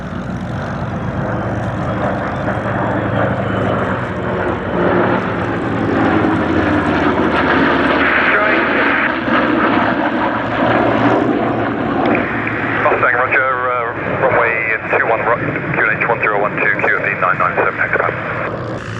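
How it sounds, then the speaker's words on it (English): A formation of propeller-driven warbirds, including a P-51 Mustang, passes overhead at the Sywell airshow in England, a loud sustained engine roar swelling and fading with a commentator talking over the public address throughout. "here comes our lovely formation, led by Cam in that P-47."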